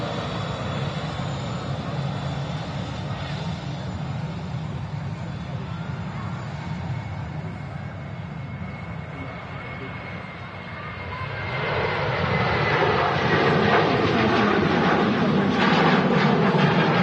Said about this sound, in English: there is actually another plane on the runway first, departing at Ryanair 737-800, heading off to Santander